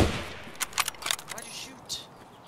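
Several quick gunshots ring out in a shooter video game, a cluster of sharp cracks followed by one more, with a brief voice at the start.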